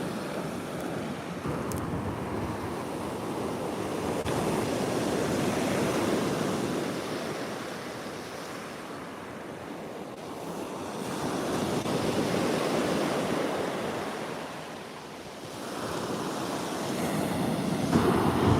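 Waves break and wash onto Caister Beach in slow surges that swell and fade, with steady wind noise buffeting the microphone and no voices.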